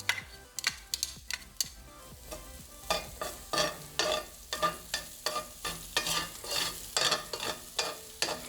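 Garlic sizzling in a hot pan over medium-high heat for shrimp scampi, with a constant frying hiss under rhythmic scraping and stirring strokes from a utensil, close and moderately loud, with no talking.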